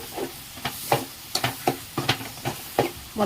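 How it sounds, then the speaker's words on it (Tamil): Potatoes and drumsticks go into a sizzling prawn curry in a pan, with repeated stirring scrapes and soft frying sizzle in bursts about every half second, fairly close. "உருளைக்கிழங்கும் முருங்காயும் போட்டுருவோம்."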